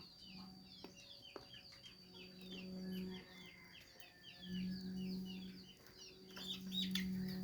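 Chickens cluck and call on a mango farm in a steady, busy chorus, with a low droning hum running underneath in stretches and a few faint knocks.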